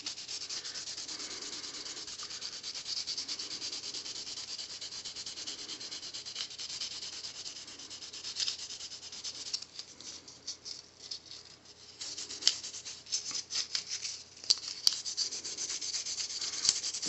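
Sandpaper rubbing grime off the contacts of an NES game cartridge, a steady close scratching and scraping that continues throughout with a few sharper scuffs near the end.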